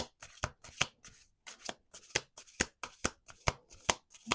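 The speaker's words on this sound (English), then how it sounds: "Last shuffle." Tarot cards are shuffled by hand in quick riffling bursts, about a dozen crisp slaps in a fairly even rhythm, close up and alone without talk.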